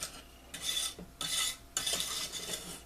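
Fudge frosting mixture is stirred in a pan, giving bursts of scraping and swishing strokes, several loud passes separated by brief pauses, close and with no talking.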